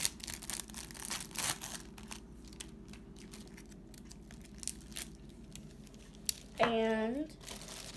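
Plastic food packaging for a sandwich is ripped open and unwrapped up close, heard as crinkling and tearing bursts near the start, with a voice speaking briefly near the end.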